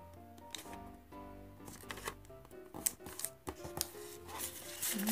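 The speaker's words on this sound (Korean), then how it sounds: "이쪽도 이 끝을 이 끝에다가 붙이듯이 접어주세요." Paper being creased and folded by hand while making an origami shoe, giving soft crinkles, rustles and sharp pressing snaps at close range, with no talking.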